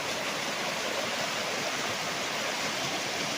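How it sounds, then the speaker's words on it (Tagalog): A river beside a farm lot in Majayjay, Laguna rushes steadily with broad, even noise, the way a stream or small waterfall sounds, and nobody talks over it. "videohan ko lang ulit yung ilog ha, kasi napakaganda talaga niya"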